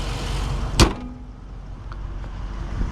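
A 2021 Dodge Charger R/T's door shuts with one sharp, solid thud close by, followed by quiet cabin rustle and faint settling noises.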